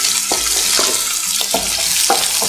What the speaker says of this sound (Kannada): ಈರುಳ್ಳಿ ಒಂಚೂರು ಸಾಫ್ಟ್ ಆಗೋವರೆಗೂ ಫ್ರೈ ಮಾಡ್ಕೊಳ್ಳೋಣ